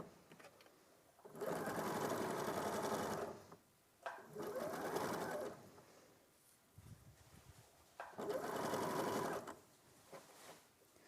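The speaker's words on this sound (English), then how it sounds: "sew that together along the bottom, matching it up all along the way" A sewing machine stitching fabric pieces together along the bottom seam runs in three steady buzzing bursts of about two seconds each, separated by short quiet pauses, clear and close.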